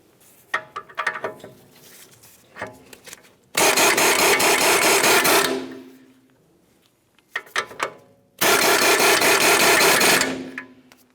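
A 21mm socket tightens the outer tie rod end nut on a 2009-2019 Ford Flex during a bellows boot replacement. Two loud, sustained bursts of rapid tool noise are separated by quieter clicks and handling sounds.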